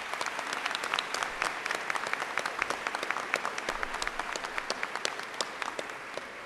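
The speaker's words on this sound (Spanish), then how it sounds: "y pido un aplauso para ellos, por favor." At a ceremony an audience claps, a fairly quiet, crisp patter of individual hand claps that keeps going steadily from start to finish.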